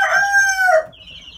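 A single loud, drawn-out chicken call rings out close by inside a coop housing egg-laying chicks, then fades into quiet background noise.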